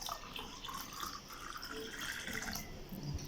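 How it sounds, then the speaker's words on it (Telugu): Water pours in a steady, quiet stream, a soft continuous trickle with no voices. "ఇప్పుడు కొద్దిగా నీళ్ళు కలుపుకుంటానండి"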